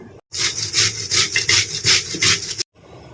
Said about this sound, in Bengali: এবার চাল কুমড়োটা আমি ঘষে নেব এই মোটা জায়গাটা থেকেই ঘষবো যাতে করে একটু মোটা মোটা পড়ে